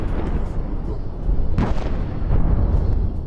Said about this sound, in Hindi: अचानक हुए इस धमाके के बाद एक सफेद धुआं उठा।